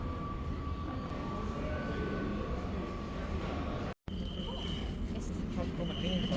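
Train station rumble in Paris, a steady low rolling rail noise with faint squeals and a brief cut partway through.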